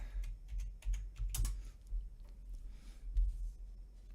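Quiet, fast typing on a computer keyboard, a steady patter of light key clicks with a few heavier keystrokes, faint and close with no voices.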